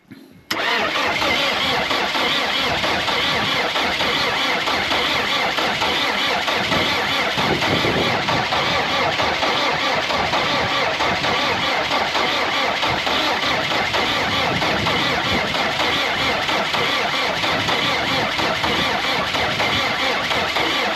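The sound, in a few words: old engine cranking, trying to start after 4 years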